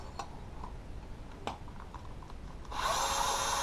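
A power tool starts up at close range, a steady high whir, as it backs out a head bolt on a Losi DBXL RC car, preceded by a few small clicks and taps.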